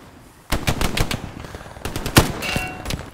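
Gunfire crackles in the World War II shooter Hell Let Loose: after a brief quiet, rapid, close automatic bursts rattle off in two clusters, with one especially sharp loud shot among them.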